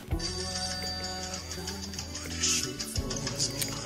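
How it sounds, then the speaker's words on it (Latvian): A telephone rings from inside a suitcase, a steady electronic ringtone repeating throughout under a busy indoor scene. "zvana no čemodāna"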